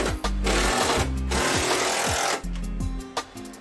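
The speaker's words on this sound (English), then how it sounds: "Put my screws back on the edges, which Isaac is doing right now." A power driver runs loud and close as screws are driven back into the edges of a 2020 Red Eye spoiler on a Hellcat Challenger. It whirs in short bursts with brief pauses between them.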